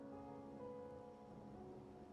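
Steady rain falls in the Wuthering Waves video game, a constant soft hiss of drops on surfaces with a low ambient hum beneath, even and unbroken throughout.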